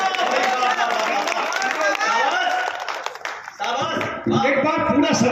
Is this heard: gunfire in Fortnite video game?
no